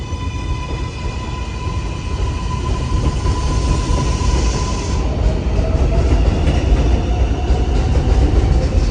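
A 7 local subway train on the Flushing Line rumbles into Court Square station loudly and steadily, wheels clattering on the rails with a faint metallic squeal rising as it nears the platform.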